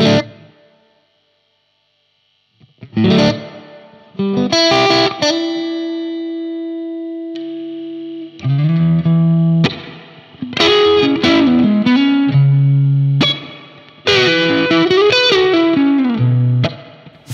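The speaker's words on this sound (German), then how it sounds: "Der Hallregler, den werde ich jetzt mal von wenig bis viel aufdrehen." Electric guitar through a Laney Lionheart L50H tube amp and L412 cabinet, played in distorted chords and phrases with the reverb knob being turned from low to high, so the ring-out tails grow longer across repeated bursts of loud playing after a brief silence.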